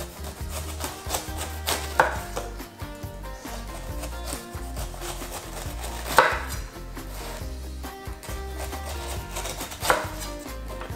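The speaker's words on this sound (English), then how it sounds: "once you get all the peel off like this" A knife slices the peel off a pineapple with steady rubbing and cutting strokes and a few sharper knocks against a board. The sounds are close and continuous over a busy background, with no talking.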